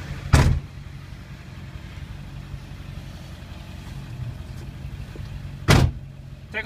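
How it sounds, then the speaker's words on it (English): A 2002 Ford F550 XLT crew cab 4x4 dually truck idles with a low, steady rumble inside the cab, framed by two loud door-like thumps at the start and near the end, with no talk. "Let's take you on a quick test drive and show you how the vehicle drives."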